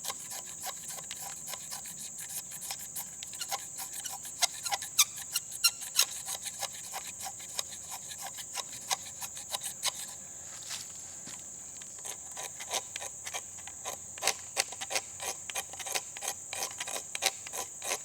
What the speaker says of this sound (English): You want to take your magnesium rod and just scrape off enough.